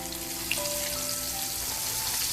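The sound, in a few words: whiting fish frying in corn oil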